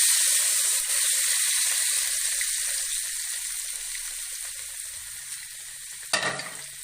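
Hot oil sizzling loudly and steadily up close as a tadka tempering for sarson ka saag is added, a bright continuous crackle that slowly fades, with a brief clatter near the end.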